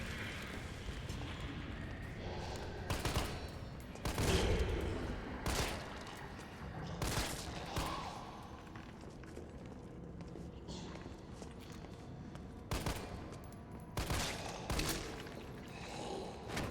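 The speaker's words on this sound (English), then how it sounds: "We just shot 2 shotgun shells." Shotgun blasts in the video game Resident Evil 3 Remake, several loud, broad bursts at irregular intervals amid ongoing game noise and footsteps.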